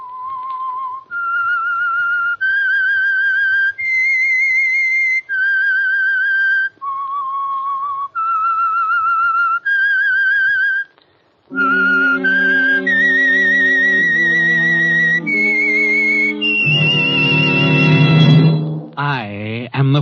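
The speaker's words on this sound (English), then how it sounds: "That whistle is your signal for the Signal Oil Program" A whistled melody of long sustained notes, first a single clear whistle, then a fuller, richer-toned whistle taking up the tune, loud and close.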